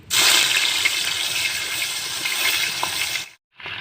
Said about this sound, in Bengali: আমি তেলের মধ্যে এখন মাছ ছেড়ে দিচ্ছি